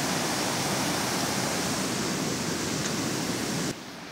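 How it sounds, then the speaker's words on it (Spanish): Yanuncay river in flood in Cuenca, Ecuador, roaring as a dense, loud, continuous wash of rushing water that fills the whole clip, with no talking. "Aquí podemos ver ahí el choque de agua."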